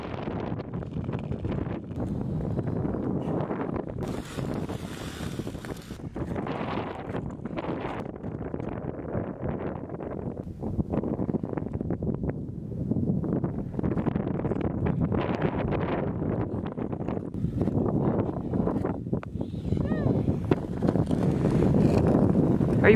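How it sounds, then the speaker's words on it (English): Skating on frozen Perch Pond in Old Town, a steady roar of wind buffets the microphone, rising and falling with gusts, loud and unbroken, without talk. "the wind is doing a good job pushing us back"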